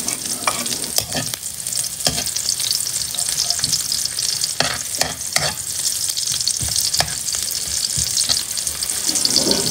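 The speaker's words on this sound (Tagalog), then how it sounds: "isusutay natin yung garlic and onion until mag-turn sa brown" Garlic and onion sautéing in oil in a clay pot, a loud, continuous crackling sizzle with scattered stirring scrapes and clicks throughout, close and unaccompanied by talk.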